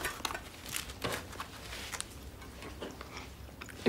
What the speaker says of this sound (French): Mangez pas si vite, vous allez vous faire mal.